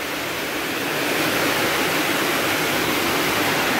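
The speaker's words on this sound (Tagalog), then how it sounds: "Grabe ang lakas ng hangin." Heavy rain and strong wind during a storm at a home fiesta, a dense, steady roaring hiss filling the whole clip with no other sounds breaking through.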